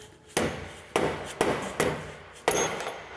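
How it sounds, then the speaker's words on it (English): A steel drift pin is struck with a hammer to knock a chuck free of a drill press quill, giving five sharp metallic blows at an uneven pace, close and loud with short ringing decays. "A few strikes will dislodge the chuck out of the drill press"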